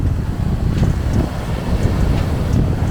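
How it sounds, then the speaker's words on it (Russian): Very strong wind on Rhodes buffets the microphone in loud, continuous low rumbling gusts that surge and ease without a break. "Просто сильнейший ветер."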